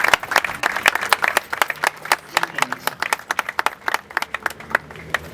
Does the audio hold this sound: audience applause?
yes